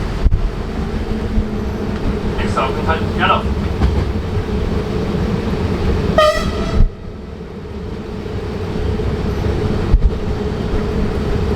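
A train on the Erlauftalbahn in Lower Austria rumbling steadily nearby with a brief horn blast and a sharp screech of rail noise, the low mechanical drone continuing throughout.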